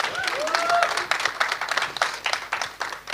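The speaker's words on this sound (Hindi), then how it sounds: "तब तक तालियां मारो" A crowd at a Punjabi film trailer launch applauds, clapping that thins into scattered, distinct claps, with whoops and voices mixed in over it.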